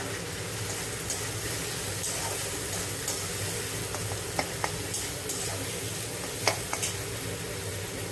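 Salt, ground coriander, cumin, chili and turmeric sizzle in hot oil in a pan while chicken kosha is being cooked, a steady close crackling hiss with occasional small pops and stirring scrapes.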